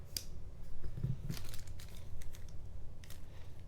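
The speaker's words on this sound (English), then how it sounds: "Like I said, a little plastic bag" Quiet crinkling and rustling of a small plastic bag from Spyderco Tenacious knife packaging, soft irregular crackles close by with brief louder crinkles.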